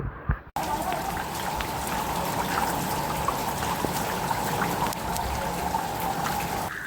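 Steady rain pouring down in a continuous hiss that stays even and fairly close throughout, with no voices.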